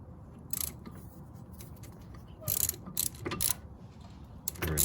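A 12mm hex bit tightening the front brake bolts on a Mazda3, a few short, faint ratcheting clicks in separate bursts over a quiet background.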